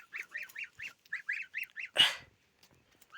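Geese honk outdoors in a quick run of about nine nasal calls, close and clear, followed by a louder rasping burst, then quiet.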